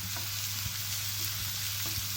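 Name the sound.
stirring turmeric powder into frying dal tadka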